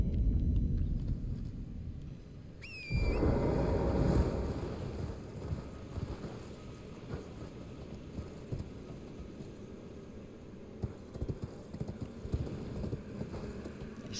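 Horse hooves clip-clopping while riding the spectral steed in Elden Ring, a steady rhythmic trot of close, distinct hoofbeats over an ambient game backdrop, following a brief chime near the start.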